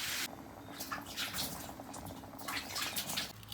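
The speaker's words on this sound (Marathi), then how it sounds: "तर आता याच्यामध्ये घालू आपण पाणी" Water is poured into a dish in a steady, splashing stream that runs almost continuously at close range, with no talking over it.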